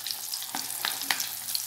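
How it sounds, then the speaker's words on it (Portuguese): Onion pieces frying in hot oil for an onion appetizer, a steady bright sizzle with a few soft clicks from stirring, close up and with no talking. "Agora nós vamos colocar pra fritar, vai ficar bem fritinha mesmo."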